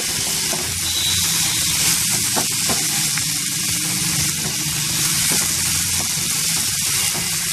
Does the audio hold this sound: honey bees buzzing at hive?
no